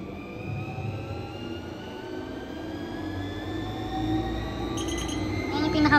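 A Yeesall home treadmill runs at its top speed, a steady motor whine with rising harmonic tones and belt rumble, close and continuous, with a few faint electronic beeps near the end.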